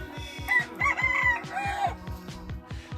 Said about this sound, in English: This is me just hanging out with the chickens in their house.